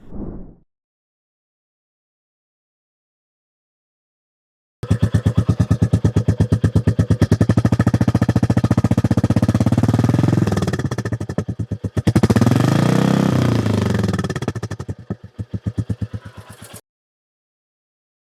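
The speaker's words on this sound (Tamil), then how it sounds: "உங்களுக்கு இந்த புது வண்டியோட சவுண்டு பிடிச்சிருக்கா, இல்லை பழைய வண்டியோட சவுண்டு பிடிச்சிருக்கா" A Royal Enfield Classic 350 motorcycle engine and exhaust: after a brief sound and a silence, the single-cylinder thump starts close and loud, runs steadily with a dip and a rev near the end, then cuts off.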